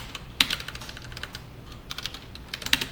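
Sparse keystrokes on a computer keyboard during a Java programming lesson, a few soft clicks with two sharper taps, faint and close with no talking.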